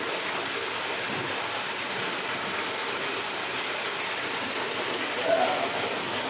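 Steady broadband rush of an underground waterfall inside a cave, continuous and fairly loud throughout, with a brief faint knock near the end.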